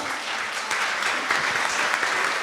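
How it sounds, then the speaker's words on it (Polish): Loud, steady applause from an audience at a culinary heritage cooking contest, a dense wash of many hands clapping continuously without pause. "Myślę, że ogromne brawa"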